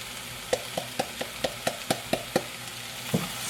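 Corn and tomato chicken bouillon stirred in a pan, a spoon tapping the pan in a steady run of about ten light knocks, close and clear, with a faint sizzle underneath.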